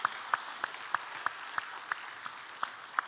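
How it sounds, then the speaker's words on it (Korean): A church congregation at a Sunday worship service claps in unison to a steady beat, about three sharp, evenly spaced claps per second over a soft room murmur. "우리 하나님께 박수 영광 돌립시다"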